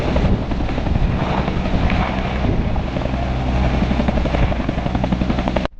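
A toy helicopter whirs in a loud, steady, close-up drone with a constant rotor buzz, running unbroken for several seconds before cutting off abruptly at the end.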